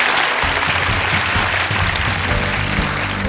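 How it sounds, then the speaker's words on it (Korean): A studio audience at a lecture show gives steady, loud applause for a speaker, a dense wash of clapping with a low rumble underneath. "장수인 씨에게도 박수 부탁드리겠습니다."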